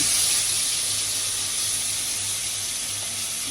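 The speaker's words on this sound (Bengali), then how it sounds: "এবার আমি উপকরণগুলো দিয়ে দিব প্রথম আদা বাটা রসুন বাটা পেঁয়াজ বাটা" Ginger, garlic and onion paste hits a hot pan of oil after frying rohu fish, giving a loud, steady sizzling hiss that holds evenly throughout without talk.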